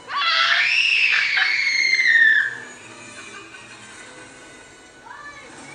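A child lets out a long, high-pitched scream lasting about two seconds, then it fades into quiet room noise with a faint voice near the end.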